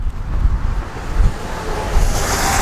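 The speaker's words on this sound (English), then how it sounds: "A little windy out here." Gusty outdoor wind after a major snow storm, a steady broadband rush with low buffeting gusts hitting the microphone, loud and continuous throughout with no talk.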